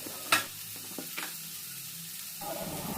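Bitter gourd fries with tomato and onion in a pan, a soft steady sizzle broken by a sharp clink of the spoon and a few light scrapes as it is stirred.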